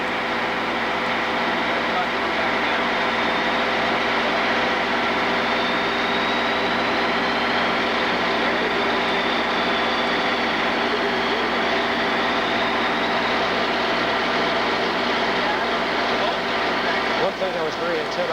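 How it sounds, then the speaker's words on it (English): A large Tesla coil's rotary spark gap spins up for the first time at an inaugural test firing, giving a loud, steady whine with layered motor hum and a faint rising tone throughout. "Here's the rotary gap being spun up for the first time."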